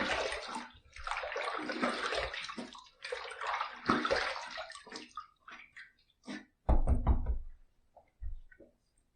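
Running water splashes steadily as a razor is rinsed during a shave, broken by short gaps and a few sharp knocks of the razor against the basin near the end.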